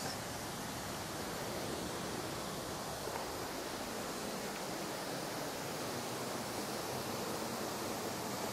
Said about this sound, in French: Ce sont des chutes d'eau.